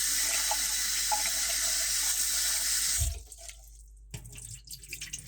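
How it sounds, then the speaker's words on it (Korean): A kitchen tap runs steadily into a sink as rice cakes for soup are rinsed, a constant close rush of water that cuts off abruptly, followed by quieter clatter and splashes. "한번 헹군 뒤 물에 담가 놓을 예정입니다."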